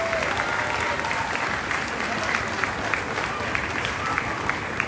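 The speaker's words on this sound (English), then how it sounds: "Give him a round of applause." Steady audience applause at a county fair antique tractor parade, continuous dense clapping for the full stretch with a crowd murmur beneath, moderately distant outdoors.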